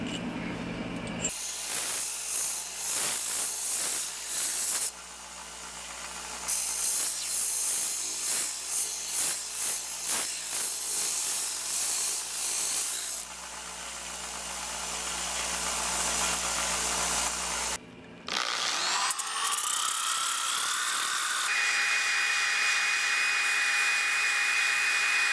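A lathe spins while an antique Pomeroy leather-working tool is restored, giving a steady close whirring hiss broken by several stops and restarts and shifts in pitch, with no talking.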